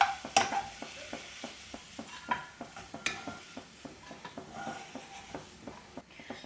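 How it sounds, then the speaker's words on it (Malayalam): Onions fry in oil while chicken pulao is cooked, a steady soft sizzle broken by a regular series of close stirring scrapes and clicks of a utensil against the pan, with no talking. "സവോള നല്ലൊരു ബ്രൗൺ കളറിലേക്ക് വന്നോട്ടെ"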